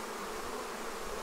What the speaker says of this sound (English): More bees are moving up. So that's a good flurry of activity.